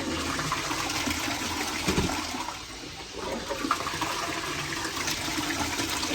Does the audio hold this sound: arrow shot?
no